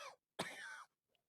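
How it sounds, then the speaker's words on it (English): A single harsh cough bursts out alone, preceded by a short breathy vocal sound and followed by a faint trailing noise, from a man role-playing an injured character with hurt ribs. "I can't be coughing"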